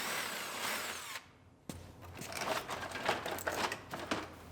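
A power tool whirs in short bursts while unbolting the wheel liner on a 2019 Ford Explorer Limited being rebuilt after a wreck, the tool noise close and busy, with a brief gap before the bursts resume.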